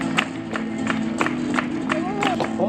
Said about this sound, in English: which you can hear in the hand clapping